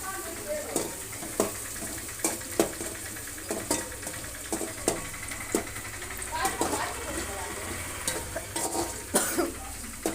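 Cauliflower being fried and stirred in a pan until browned, steady sizzle punctuated by regular sharp scraping and clinking strokes of a spoon close by.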